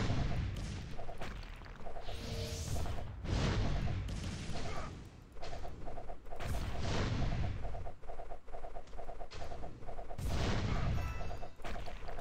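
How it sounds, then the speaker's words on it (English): Repeated explosions from the tower-defense video game Idle Kingdom Defense, a dense run of loud booms and blasts firing in overlapping bursts throughout, with no talking. "Now we can hear all the explosions."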